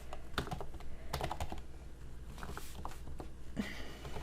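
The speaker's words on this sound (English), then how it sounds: "And gotta type that in." Quiet clicks of a computer keyboard as numbers are keyed in during a precalculus law-of-sines problem, coming in short irregular bursts of taps, close and soft, with no talking.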